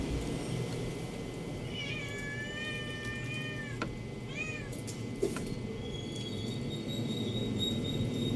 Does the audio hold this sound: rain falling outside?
no